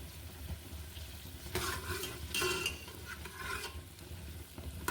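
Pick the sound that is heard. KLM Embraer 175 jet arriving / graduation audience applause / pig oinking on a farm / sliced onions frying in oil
sliced onions frying in oil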